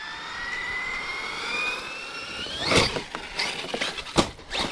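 Losi Super Lasernut RC buggy on Pro-Line MX38 belted Badlands tires, electric motor whining under throttle while airborne: a high rising whine climbs in pitch, then sharp bursts and crackling follow. Close and loud, with no talking.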